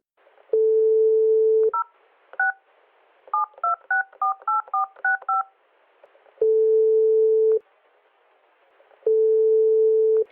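A telephone dials out: a steady dial tone, then a quick run of about a dozen keypad beeps, followed by two long ringback tones with pauses between, clean and close with no talk.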